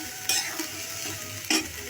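Prawns and spring onion greens frying in a pan, with a soft steady sizzle broken by two sharp stirring scrapes, close and moderately loud.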